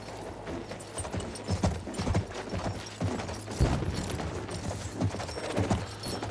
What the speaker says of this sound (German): so, ich glaube, den Gaul lassen wir hier stehen. Bleibt mal schön hier, mein Pferd.